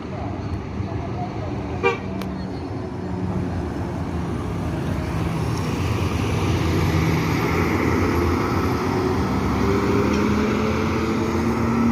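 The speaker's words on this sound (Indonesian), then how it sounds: "Mesin Hino bosku, RM280. Ini suaranya sangat sangar sekali." A heavy Hino RM280 bus engine roars steadily and loudly throughout, with a short horn toot early on and a low rumble that builds slightly.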